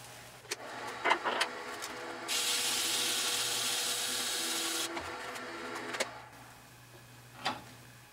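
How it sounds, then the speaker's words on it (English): Sandpaper worked against a wooden vessel piece gives a steady, loud rasping hiss lasting a few seconds, with softer scrapes and handling knocks before and after. "we'll just take some sandpaper and sand it off a little bit"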